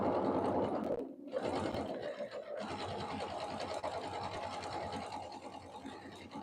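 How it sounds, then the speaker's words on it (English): A sewing machine runs a straight quarter-inch seam on a Christmas tea towel, a close, continuous fast whirring hum with a brief pause near the start, steady to the end. "we're just sewing a straight stitch and a scant quarter"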